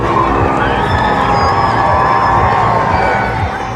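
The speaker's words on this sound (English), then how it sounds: "King arrived to cheers and flag waving from the hundreds of people who'd gathered" Hundreds of people in Cardiff cheer and wave flags as King Charles arrives, a steady roar of crowd voices and shouts held at an even level throughout.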